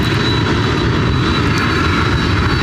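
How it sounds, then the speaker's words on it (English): A Boeing 767-300 freighter jet roaring steadily and loudly during takeoff at Ontario Airport in California, heard up close from airside as a constant broadband engine rush with no talk. "767-300 freighter should be able to take off"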